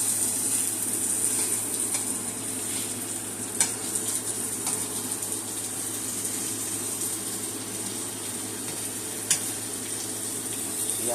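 Eye round steak searing and browning in a hot pan, a steady close sizzle with a few faint clicks of utensils and no talk.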